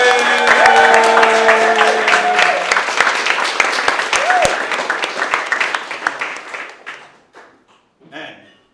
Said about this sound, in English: how about a big round of applause to all of our finalists?